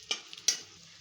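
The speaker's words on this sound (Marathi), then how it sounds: "काजू अगदी 10 ते 15 सेकंदात तळतात" Cashews fry briefly in hot oil, giving short bursts of bright crackling sizzle with a near, faint bubbling hiss between them.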